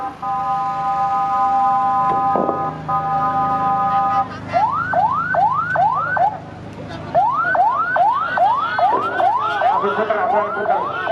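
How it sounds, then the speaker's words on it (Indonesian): An ambulance siren sounds up close on a street in front of the DPR building during a clash, first holding steady tones, then switching to a rapid rising whoop repeated again and again. "Buka jalan, ambulan masuk ke jalan."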